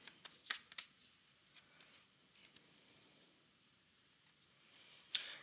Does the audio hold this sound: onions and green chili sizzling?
no